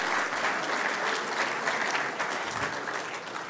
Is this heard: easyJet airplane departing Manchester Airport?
no